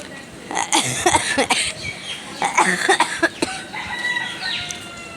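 A person still recovering from a lingering cough coughs in several sharp, hoarse bursts, with roosters crowing and chickens clucking nearby.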